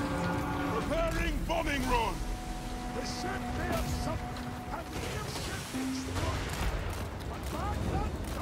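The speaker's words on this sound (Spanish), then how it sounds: "Cañonazo" Dwarf cannons fire in a Total War: Warhammer battle, with several booms and artillery blasts breaking through a busy battlefield din while a person talks over them.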